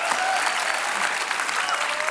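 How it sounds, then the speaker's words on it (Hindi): Sustained audience applause fills a TV show studio, a dense, steady wash of clapping at even loudness throughout with no voices standing out. "जोरदार तालियां इनके लिए।"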